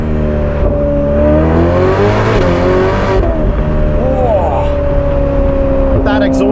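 A Novitec-tuned Ferrari F8 Spider with an aftermarket exhaust idling and revving: a loud, close, steady engine drone with rising and falling rev pitch, someone speaking over it.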